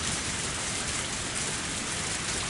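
Steady, dense rainfall in the video game Higurashi, a continuous close hiss of drops pattering without pause or voices.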